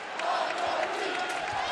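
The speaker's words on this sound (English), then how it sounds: "the crowd coming alive here." A basketball arena crowd at a Saint Mary's vs Gonzaga game in 2017 roars with sustained cheering and shouts, a dense, steady wash of many voices throughout.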